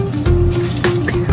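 Dishes being hand washed under running tap water in the sink of an Airstream travel trailer, a steady close splash and trickle with brief clinks of handled items.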